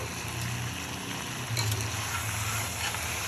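Potatoes and garlic sautéing in a pan, a faint steady sizzle with soft stirring scrapes, no talk.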